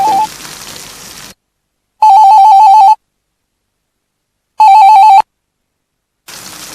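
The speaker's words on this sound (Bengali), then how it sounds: "ফোনটা ধর।" A telephone in a 2006 television drama rings in two loud, warbling electronic bursts, each about a second long and separated by silence, with muffled room sound before and after.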